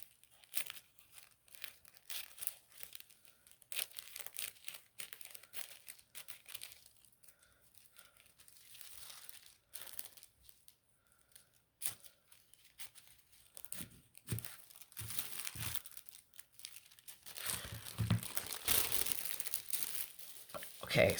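Scissors cut out a paper piece for a unicorn craft, producing faint, irregular crinkling and snipping close up, growing louder and busier toward the end.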